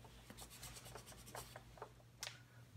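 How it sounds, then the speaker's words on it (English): Wood for a muzzleloader being sanded by hand with a sanding block: quick, quiet, rhythmic rasping strokes, each a short scrape, over a low steady hum. "now that I'm done shaping and sanding the wood"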